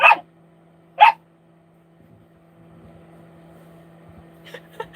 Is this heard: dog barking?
yes